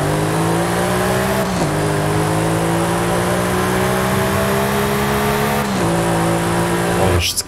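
A racing game car, a record-setting fast road car, holds a loud steady engine drone at high revs, with two brief gear-shift dips and a tyre squeal flaring at the end; no talk over it.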